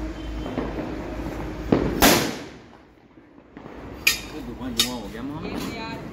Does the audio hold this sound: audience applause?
no